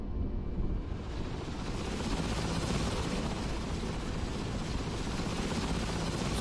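Mi-35 attack helicopter in the video game Broken Arrow flies overhead, its rotor noise a dense continuous roar that stays loud and steady the whole time with no talk.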